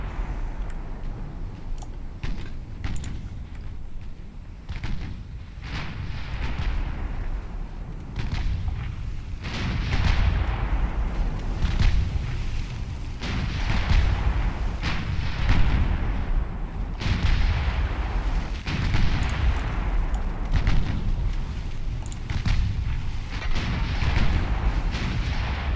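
Naval artillery in the Ultimate Admiral Dreadnoughts video game booms repeatedly over a continuous rumbling battle bed, with heavy shots landing irregularly every second or two throughout.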